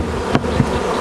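Honey bees swarm and buzz around a freshly split hive in a steady, dense drone, close and loud, with a couple of brief louder passes near the microphone.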